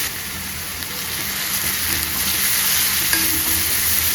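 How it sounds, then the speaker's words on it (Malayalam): A garlic chutney mixture with chili powder is stirred in a hot pan, giving a steady, close sizzling hiss with scraping of the stirring under it and no voices. "ഇനി നമുക്കിതെല്ലാം കൂടെ നന്നായിട്ട് മിക്സ് ചെയ്തെടുക്കാം."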